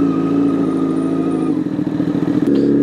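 Honda Fireblade SP sport motorcycle engine idling with a steady low throb up close, then a few rough uneven pulses and a brief clatter near the end.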